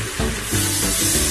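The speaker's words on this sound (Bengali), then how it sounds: "এবার দিয়ে দেবো জল।" Water poured into a pan of sautéed potato curry, a steady broad sizzle and hiss that swells as the liquid hits the hot oil, continuous and close with no talking.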